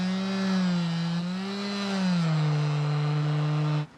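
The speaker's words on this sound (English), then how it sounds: "I go around all the sealant around the outside with the oscillating tool." An oscillating multi-tool cuts through old sealant around a sailboat fitting, giving a steady, loud buzzing whine that wavers slightly in pitch for about four seconds before cutting off abruptly.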